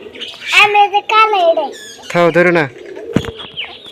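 Pet pigeons, a pair side by side, give soft low coos beneath bursts of a woman's and a child's speech, with the voices dominating.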